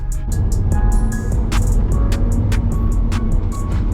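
A Porsche 992 Targa Heritage Edition pulls away at the start of a rally, a loud, steady engine drone heard from close by with rhythmic ticking over it and no talking.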